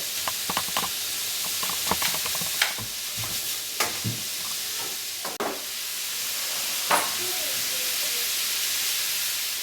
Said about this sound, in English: I'm just going to keep stirring this, like I said, till it's brown